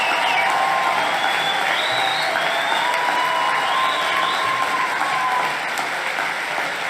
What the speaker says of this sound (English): They're giving him a standing ovation.